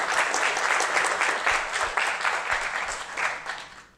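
An audience applauds at a science humor prize ceremony, a dense burst of clapping that holds steady and then begins to taper off toward the end.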